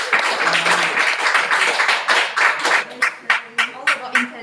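Audience applause at a speaker event, dense clapping that thins out into separate, spaced claps toward the end.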